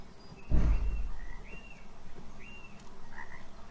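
A frog croaks repeatedly in short, drawn-out calls over a soft outdoor background, following a single dull thump near the start.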